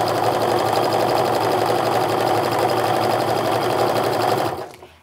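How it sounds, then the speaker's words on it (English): A home sewing machine runs steadily, stitching a quarter-inch seam through cotton charm-pack fabric for a Christmas stocking, a close, even whir that continues unbroken before cutting off abruptly at the end. "I'm just gonna go ahead and sew down using a 1/4-inch seam as I go down here"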